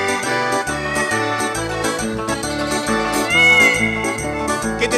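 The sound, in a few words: cat meowing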